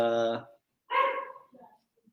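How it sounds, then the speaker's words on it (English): A dog barks during a tabletop game session: one loud harmonic yelp at the start, then a second bark-like burst and a few fainter yips trailing off into quiet. "apologies if you just heard that dog"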